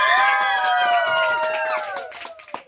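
Children at a school applaud and shout together, a loud burst of clapping with high sustained cheering voices that fades toward the end.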